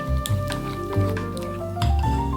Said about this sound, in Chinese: 再加入刚刚拌好的高汤，搅拌均匀，制成香气浓郁的面糊。